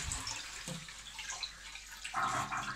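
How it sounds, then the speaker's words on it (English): An Ideal Standard toilet with a leaky, constantly running flush is flushed; faint rushing and trickling water with a louder gush near the end, close but quiet. "what I'm gonna do first of all is just flush this toilet"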